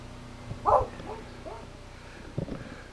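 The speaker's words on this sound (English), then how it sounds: "There's my guard dog, my killer beagle." A beagle gives several short, fairly faint barks spaced across a few seconds, outdoors on a small off-grid homestead.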